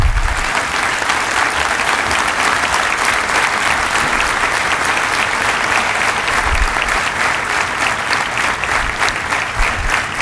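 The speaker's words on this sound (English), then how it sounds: "Is the applause audible?" An audience in a hall applauds, a loud, dense and sustained wash of clapping from many hands that holds steady for about ten seconds with no break.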